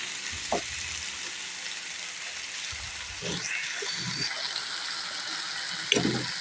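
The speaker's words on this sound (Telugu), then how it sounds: "చక్కగా ఒక నిమిషం ఆయిల్లో ఇట్లా ఫ్రై చేసుకోవాలన్నమాట అటు ఇటు తిప్పుకుంటూ కాస్త ఫ్రై చేసుకోవాలి" Potatoes and tomatoes frying in oil for an aloo tomato masala curry, a steady hiss with a few louder sizzling bursts as the pieces are stirred and turned.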